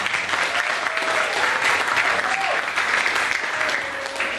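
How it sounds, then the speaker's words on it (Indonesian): Steady applause from a crowd at a church youth camp seminar in North Medan, loud and sustained for several seconds, clapping evenly throughout. "Oleh karena itu kita tepuk tangan dulu."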